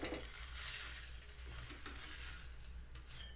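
A cabbage paratha fries in oil on a hot griddle after being flipped, a soft continuous sizzle with faint occasional scraping, quiet and close.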